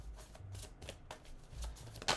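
Tarot cards are shuffled by hand, with quick riffling and soft slapping bursts repeating close to the listener, fairly quiet and with no talking.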